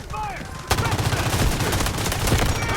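Rapid automatic gunfire in the video game Delta Force bursts in sharply after a brief quieter moment, then continues as a dense string of loud shots to the end.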